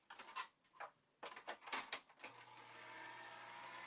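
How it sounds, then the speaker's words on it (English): Acetate sheet being fed into a die cut machine: quiet close handling clicks and rustles, then the electric machine starts a steady low motorized hum that continues, faint and alone. "Now I'm going to take this and I'm going to run this through my die cut machine"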